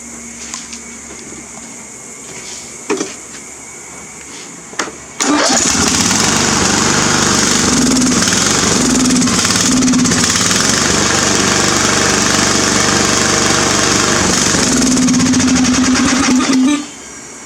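Craftsman lawn mower engine cranks with a couple of short pulls, then catches and runs loudly and roughly for about ten seconds before cutting out.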